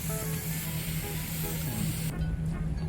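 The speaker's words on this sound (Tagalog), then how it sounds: "kaya spray na po natin pati ang kanyang katawan" A rooftop grape vine, its trunk included, gets a steady close hiss of fungicide from a sprayer, with an underlying hum and occasional soft background talk.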